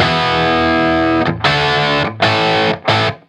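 A distorted electric guitar riff in E, with a loud sustained crunchy chord followed by three short chopped stabs separated by brief silences.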